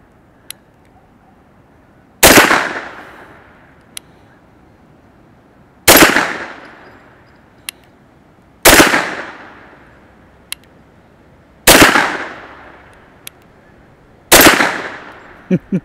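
KelTec SUB 2000 carbine fired outdoors at a target, five sharp loud single shots spaced a few seconds apart, each with a ringing decay, plus faint clicks between.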